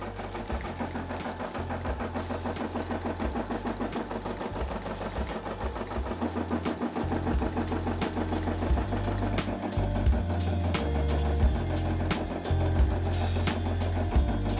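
A Brother SE600 embroidery machine stitches a design with a steady, rapid mechanical chatter and low motor hum, running continuously and close by without talk.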